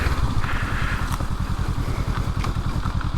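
A 2023 Honda CL500 Scrambler motorcycle rides along a dirt trail, its engine a loud, close, steady throbbing rumble with rhythmic pulsing and a few rattling clatters over the bumpy ground.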